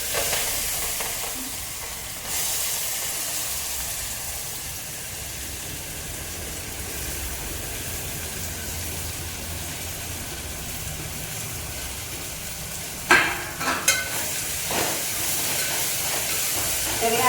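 Cumin and mustard seeds tempering in hot oil for a vaghar, giving a steady, close sizzle with a cluster of sharp pops and crackles near the end.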